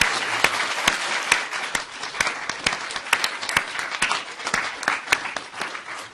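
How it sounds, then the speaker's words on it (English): Sustained applause from an audience at the final round of a competition, dense clapping throughout with sharper individual claps standing out, steady and fairly loud for about six seconds. "let me have one more hand of applause for everybody that put this together"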